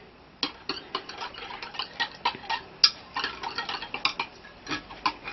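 A spoon stirs sugar into a yeast mixture in a bowl, making a rapid series of light clinks and taps against the dish, fairly close and uneven in rhythm, with no talking.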